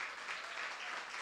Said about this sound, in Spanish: reserven sus aplausos para lo importante, por favor